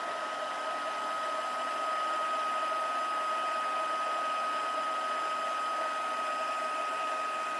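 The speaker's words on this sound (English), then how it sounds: "Let's give that a heat set." A heat gun runs steadily to heat-set embossing powder, a constant whooshing blower hum with a steady whine, close and even from start to finish with no talk.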